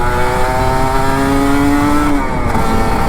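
A Kawasaki Ninja RR 150 two-stroke motorcycle engine revs steadily up close, its rising whine holding for about two seconds before dropping back, with a continuous loud engine roar throughout.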